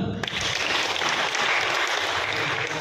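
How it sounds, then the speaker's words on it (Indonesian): Audience applause at an evangelism training seminar in Bandar Lampung, Indonesia: a full, continuous wash of clapping from a crowd, steady and moderately loud from start to finish, with faint room murmur beneath. "Kita berikan tepuk tangan."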